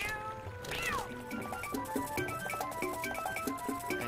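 Cat meowing in the video game Zelda: Twilight Princess, one clear rising-falling meow near the start, then game music plinking rhythmically underneath.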